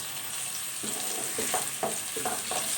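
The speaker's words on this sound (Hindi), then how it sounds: "अच्छी तरह से जो है हम इसको लहसुन अदरक को भूनेंगे।" Garlic and ginger frying with onions in a pan, a low, steady sizzle with soft scraping stirs.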